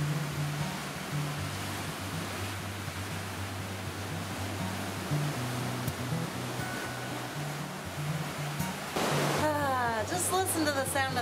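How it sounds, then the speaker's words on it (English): Steady ocean surf on a Caribbean beach at Cahuita, Costa Rica, washes in a broad, continuous rush, a low hum running underneath, with a brief brighter splash near the end. "Just listen to the sound of that ocean."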